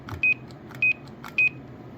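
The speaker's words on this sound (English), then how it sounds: "You can turn your Roger beep like this. You have an HR2510 sounding beep." Three short, identical electronic beeps from a CB radio roger beep, set to an HR2510-style tone, repeat at an even pace over a low radio hiss, clear and fairly loud.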